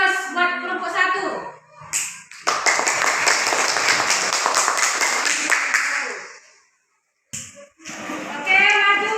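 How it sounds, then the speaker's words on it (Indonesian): Classroom applause for a group of primary pupils: a burst of clapping from the class that runs about four seconds, stops, and is framed by children talking before and after. "Kita kasih aplaus buat kelompok 1."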